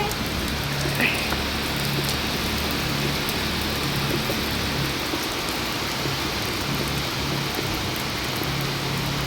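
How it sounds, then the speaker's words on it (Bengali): Heavy rain pours steadily, a dense continuous hiss of drops on surfaces, with a low hum underneath throughout. "এই দেখো জোরে বৃষ্টি আসছে"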